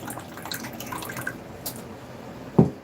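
Water drains from a bowl of shrimp into a kitchen sink as a soft, steady trickle with faint drips, ending in a brief, louder splash close by.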